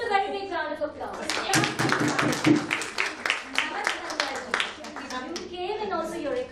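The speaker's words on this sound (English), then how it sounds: "So they need a very big round of applause." An audience bursts into applause, a dense round of clapping that swells and fades over several seconds, with a voice speaking before and after.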